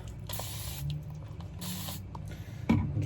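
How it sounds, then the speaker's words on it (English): A handheld spray bottle mists water onto a face ahead of a test shave, giving two short hissing bursts about a second apart and a fainter third puff, all close to the microphone in a quiet room. "I'll just spray just a little bit of water on the face."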